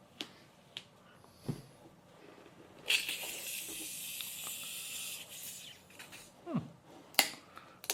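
Sparkling Topo Chico drink fizzes in a steady soft hiss for a couple of seconds after the bottle opens, close and quiet, framed by a few small clicks and handling taps.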